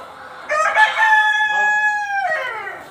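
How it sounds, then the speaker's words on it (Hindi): A black desi chicken at a poultry farm lets out a loud, close crow-like call with a drawn-out tonal middle and falling end, rising from a quiet background. "ये काली काली मुर्गियाँ।"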